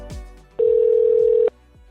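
An outgoing call to a car service center: a single steady ringback tone sounds for about a second, with faint room noise before and after.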